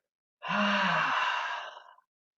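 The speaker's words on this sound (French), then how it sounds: "Belle grande respiration et par la bouche, laisse sortir." A deep, breathy exhale through the mouth during a hatha yoga flow, one long sigh that swells quickly and fades over about a second and a half, close and alone.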